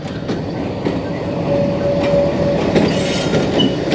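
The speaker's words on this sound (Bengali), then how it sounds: "এই ইঞ্জিনটা যাচ্ছে" A lone locomotive engine without carriages rolls along the rails at Khulna railway station, switching from one line to another, with a steady heavy rumble and rhythmic clatter, and a thin metallic squeal rises briefly midway.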